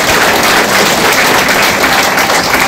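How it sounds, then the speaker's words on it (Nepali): A church congregation claps together in a dense, loud, continuous burst of applause filling the room for a few seconds. "हामी जोरदार हामी परमेश्वरलाई ताली बजाएर भन्नु सक्नुहुन्छ"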